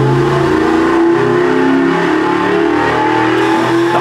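An engine revs hard and loud through break-in pulls on a Superflow dyno, its deep pitch climbing and falling in sweeping tones that carry on without pause.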